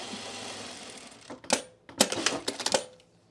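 A sewing machine stitching a bowl cozy starts up after a quiet stretch of low hum. It gives several short, sharp bursts of rapid clacking, close by.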